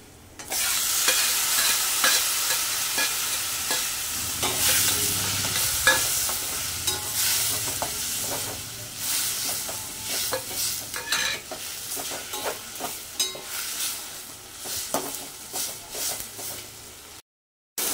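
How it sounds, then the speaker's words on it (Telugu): Tomato pieces fry with golden brown onions in a pan, a steady sizzle under repeated scraping and clinking of a spoon stirring against the metal, close and continuous, no talking. "ఇప్పుడు ఆనియన్ అంతా గోల్డెన్ బ్రౌన్ కలర్ వచ్చింది కాబట్టి టొమాటో ముక్కల్ని కూడా వేసి మగ్గిచ్చేద్దాం."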